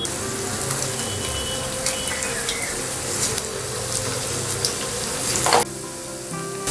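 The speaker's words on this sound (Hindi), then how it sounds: "तो हमने जो टिकियाएं रेडी की है उन्हें हम फ्राई कर लेंगे।" Green pea vada patties fry in hot oil in a pan, a loud, continuous close crackling sizzle that fades abruptly near the end, with no talking.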